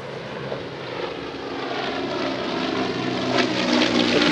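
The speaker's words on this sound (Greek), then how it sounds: "Επιχειρούν 2 αεροσκάφη και ένα ελικόπτερο" A firefighting aircraft flies over a wildfire near Kastro Minas, its engine a loud continuous droning roar that swells and holds steady.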